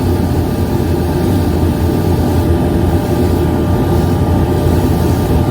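A polishing motor runs jewelry against a rubber wheel, producing a loud, constant low drone and hum that holds level from start to finish.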